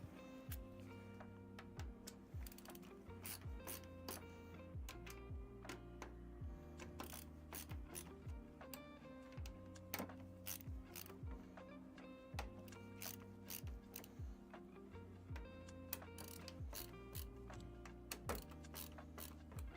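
Bolts being screwed down during a PC build with an RTX 5080 graphics card, heard as a long run of close, fast ratcheting clicks and ticks over a steady mechanical hum without speech.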